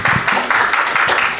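A church congregation applauding loudly at a youth day service, a dense close wash of clapping that runs through the whole short moment with no talking.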